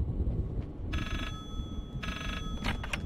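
A telephone rings twice in the horror video game Layers of Fear: two short, bright, bell-like bursts separated by a pause, set over a low, steady ambient rumble, with no one talking.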